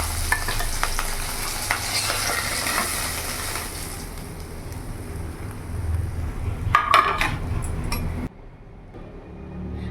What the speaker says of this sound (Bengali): বাদ বাকি মাছগুলো আমি ভেজে নেব।